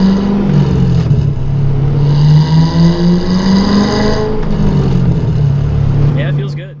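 A 6-liter Pontiac GTO with an LS2 V8 drives down the road, its deep engine note rising and falling under acceleration. The rumble is close, with the driver talking over it.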